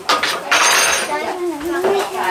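Cutlery and dishes clinking and rattling as they are handled and carried to a breakfast table in a family kitchen, busy metallic clatter close by, with a voice briefly heard.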